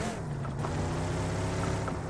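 Boat engine droning steadily in a battle-royale shooter game, a constant low hum with a light wash of water noise running unbroken throughout, fairly close and with no talk over it.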